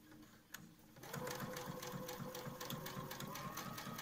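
A home sewing machine stitches a fabric face mask, its steady motor whir and rapid needle rhythm starting after a brief quiet lead-in and running continuously up close.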